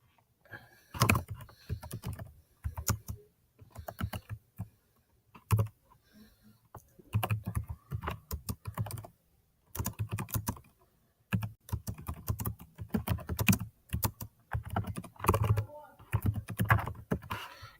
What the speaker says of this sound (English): I'm going to type a little statement here about this